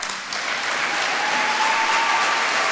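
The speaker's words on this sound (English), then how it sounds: "please join me in applauding our graduates" At a 2018 commencement ceremony, an audience applauds its graduates with sustained, dense clapping that builds within the first half second and stays steady throughout, with no speech.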